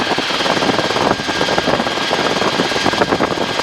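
Helicopter in flight, a loud steady wash of engine whine and rotor thump filling the cabin, continuous and close throughout.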